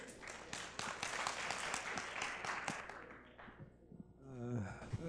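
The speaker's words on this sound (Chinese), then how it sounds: "请掌声有请黄永祥博士" An audience at a smart home technology conference in Taiwan applauds to welcome a speaker, with brisk dense clapping that fades out near the end as a voice begins.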